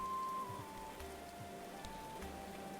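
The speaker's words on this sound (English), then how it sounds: "Can't be a lot of fun to be working outdoors and in all of this rain." Steady rain patters continuously in the medieval colony-building video game Going Medieval, a soft even hiss of falling drops with faint low thuds and a thin tonal line of game sound under it, no talking.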